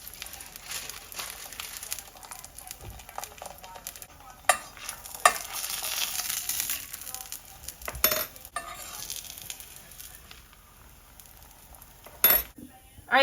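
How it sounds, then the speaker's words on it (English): Homemade tortillas cooking in a pan give a steady, soft crackling sizzle with scattered scrapes and a few sharp clinks of utensils. The sound is close and moderately quiet, with no talk over it. "when you cook these tortillas, you do 40 seconds on each side"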